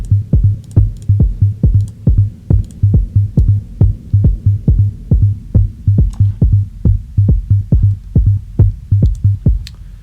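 Deep pulsing bass hits in a music production session, processed with hybrid reverb, repeating in a steady throbbing rhythm like a heartbeat, loud and up front with no talking over it.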